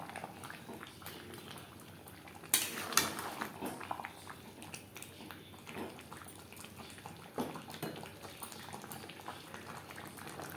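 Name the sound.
stirring chicken and potatoes together in a pan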